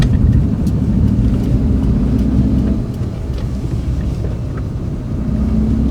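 A DFSK K01S small van built for a one-tonne payload is on a test drive, giving a steady engine and road drone from inside the cab that eases slightly midway, with no talking.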